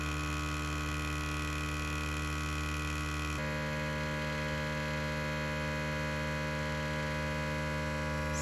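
A Resiners Airless Pro3 bubble remover runs steadily for resin work, giving a constant loud electrical motor hum with a slight shift in tone partway through, no voices.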